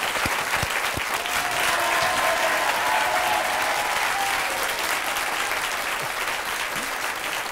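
A studio audience at a French television talk show gives loud, sustained applause, a dense continuous wash of clapping from many people that holds steady from start to finish.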